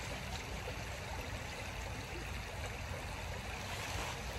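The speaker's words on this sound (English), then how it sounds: "Yeah, it's water." Water trickling along an outdoor stream, a steady broadband rush that runs unbroken and evenly loud from start to finish.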